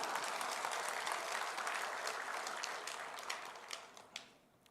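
A church congregation claps in steady, full applause that thins out over the last second or two into a few scattered, separate claps before fading.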